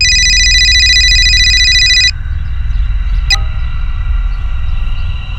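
A telephone rings with a bright, steady electronic tone that holds for about two seconds and then stops, followed by a brief faint chime, over a low constant room rumble with no talking.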